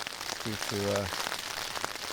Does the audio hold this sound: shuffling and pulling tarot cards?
no